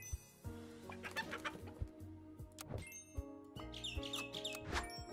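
Chicken clucks from the Super Auto Pets video game, short bursts repeating over a busy background of game music and sound effects, fairly close and clear.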